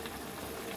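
A pot of corn with okra, white corn cooking under a lid, bubbles at a steady simmer, giving a dense, continuous close bubbling hiss with no talk.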